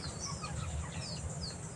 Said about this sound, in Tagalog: yung ating mga alagang manok mga inday